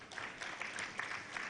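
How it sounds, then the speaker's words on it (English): Symposium audience at a national agroecology gathering gives a brief round of applause, a short burst of scattered clapping with a few sharper claps standing out. "Another round of applause for him."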